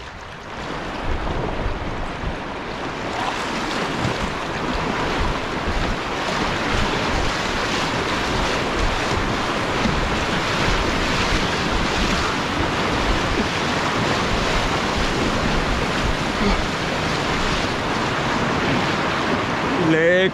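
Wild river water on the Tanaro rushes past in a loud, continuous, close roar with wind buffeting, unbroken for the whole stretch.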